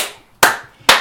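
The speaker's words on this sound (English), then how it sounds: "They all stood up clapping." Two sharp bursts of hand clapping about half a second apart, each decaying quickly, close and loud, with no talking.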